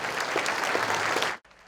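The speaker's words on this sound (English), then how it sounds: "Give yourselves a round of applause" An audience at a local business awards gala applauds, a dense, steady burst of clapping from a crowd that cuts off abruptly after about a second and a half.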